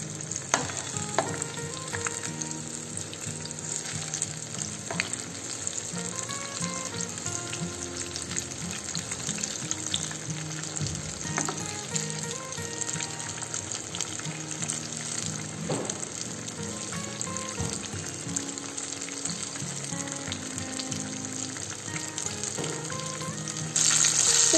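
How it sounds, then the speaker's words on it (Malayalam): Mango fritters made with oats fry in hot oil, a dense, continuous bubbling sizzle that holds steady and close for the whole stretch, with a few faint clinks. "പിടയത് നല്ലപോലെ ഫ്രൈ ആയി വന്നിട്ടുണ്ട്."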